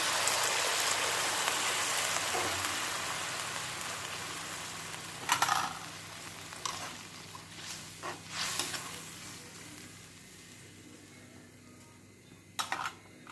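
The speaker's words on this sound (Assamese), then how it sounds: "উতলাই ৰখা গৰম পানীখিনি দি ল'ম।" Boiled hot water poured into a frying pan of fish curry with potatoes, giving a soft steady hiss and sizzle with a few brief splashy bursts as it settles.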